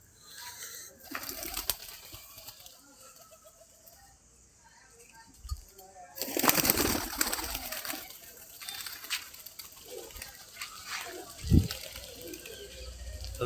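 Domestic pigeons, including satin and crested breeds, kept at home, with a burst of wing flapping as birds take off, soft cooing and scattered bird sounds, plus a sharp knock and some background noise.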